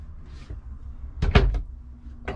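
Medicine cabinet door in a 2021 Lance 1995 travel trailer bathroom, giving a brief close knock and clatter as it closes, with a small click after, in a quiet room.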